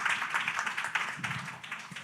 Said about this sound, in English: Clap your hands for CJ and the ladies.